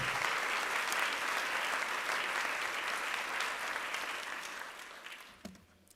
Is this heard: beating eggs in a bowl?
no